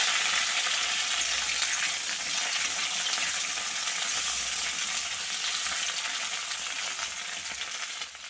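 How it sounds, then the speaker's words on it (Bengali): Okra and potatoes fry together in hot oil for an aloo bhindi masala curry, making a loud, dense, continuous sizzle close by that tapers off slightly at the end, with no talking. "তারপর ভেন্ডি আর আলুটা একসাথে ভেজে নেব।"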